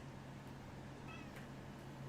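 A cat gives a brief, soft meow midway through, faint above a steady low hum, with no one speaking.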